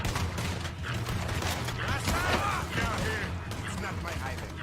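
Gunfire from a powerful gun in the Red Dead Redemption 2 video game, set among shipwreck scenery, with several shots and mechanical clicks over a dense game soundscape and background talk.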